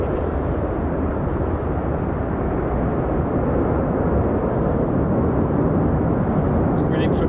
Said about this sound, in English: Decent by Ryanair there. Charging down the runway,